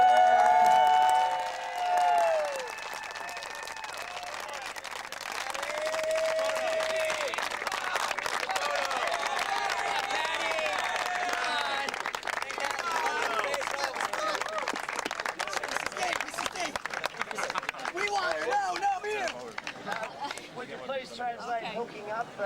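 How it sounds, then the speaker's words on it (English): A large crowd at the 1994 World Ultimate championship open final in Colchester breaks into sustained applause and cheering, swelling after a couple of seconds and continuing dense and loud, thinning slightly toward the end, with voices mixed in. "Let's all give her a round of applause"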